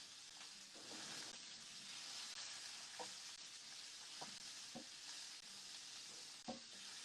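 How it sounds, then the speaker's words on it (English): Steady sizzling of meat and vegetables searing on high heat in a pan for Cuban picadillo, a constant hiss with a few soft clinks and stirring knocks. "All right, we got some sizzling going over here."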